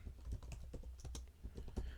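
Quiet, steady typing on a computer keyboard during C++ programming practice, with rapid uneven key clicks running throughout and no voices.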